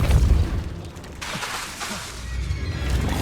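Depulso force spell cast in Hogwarts Legacy, a heavy booming burst with crashing rumble, followed by a second swelling whoosh-like impact, loud and close.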